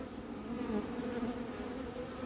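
Honeybees from a swarm being captured into a hive buzz in a dense, continuous drone close by, steady and fairly faint.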